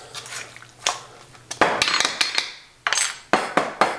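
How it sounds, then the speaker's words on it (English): A spoon scrapes and clacks against a pan as a salt-and-pepper mixture is stirred in a Latin cuisine grill kitchen, giving several sharp metallic knocks and scrapes, irregular and close, over a low steady hum. "One more stir."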